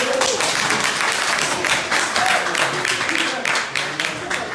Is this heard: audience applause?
yes